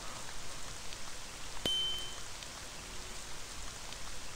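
Steady broadband rain hiss pours down without pause in a video game scene, with one sharp tick near the middle and a faint tonal chime lingering briefly over the downpour.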